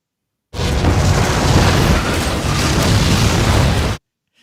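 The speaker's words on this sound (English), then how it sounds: "The explosion, it's so ridiculous and insane." A huge gas station explosion from the movie Derailed, a loud sustained roaring blast that starts abruptly and rumbles evenly for about three and a half seconds before cutting off.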